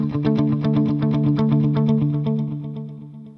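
An electric guitar played through an HX Stomp with delay and reverb in its effects loop rings out in repeated, chorus-tinged chords, the echoing tails stacking up and then slowly fading toward the end.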